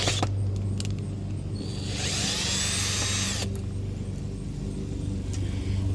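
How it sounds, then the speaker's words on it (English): A power drill whines briefly at high pitch while backing out a side screw on a BMW Z3 convertible top, over a steady low hum in the garage. "the next thing I want to do is take this side screw off to free up this cable"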